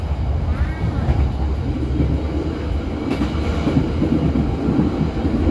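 Steady low rumble of the Pasundan passenger train rolling along the rails in Indonesia, heard from inside, continuous and fairly loud, with faint rattling and scattered clicks.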